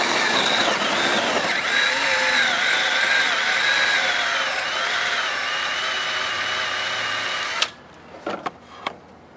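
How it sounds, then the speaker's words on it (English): A battery-powered Black & Decker electric chainsaw with NiCad batteries cuts wood, a loud, steady high-pitched motor whine running for several seconds, then cutting off abruptly, followed by a few short clunks and rattles. "I've got the chainsaw blade on a piece of wood up here."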